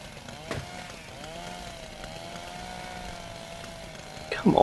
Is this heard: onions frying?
no